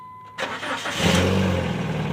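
A 2005 Dodge Neon engine, with its check-engine light on, cranks and catches after a moment of quiet, then settles into a steady, rumbling run close to the microphone.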